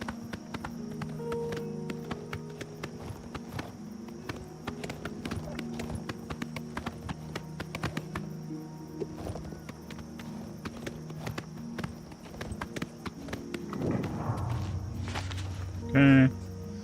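Horse hooves clip-clop steadily at a walking pace in Elder Scrolls IV: Oblivion Remastered, close and continuous over game ambience, with a brief louder tone near the end as the rider dismounts.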